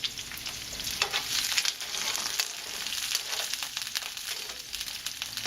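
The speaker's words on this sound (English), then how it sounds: "we're going to throw in the garlic and let that fry for a bit" Garlic fries in hot oil with vegetables over medium-high heat, a steady close sizzle with stirring scrapes running throughout, no voices.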